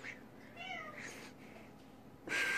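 Several house cats meow in a quiet indoor room, with a rising meow near the start, fainter calls through the middle and a louder, brighter meow at the end; no one speaks.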